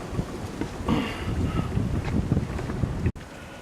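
A 1967 Evinrude 18 hp outboard motor on a Boston Whaler runs steadily with a rough, busy drone mixed with wind noise, then cuts out abruptly near the end.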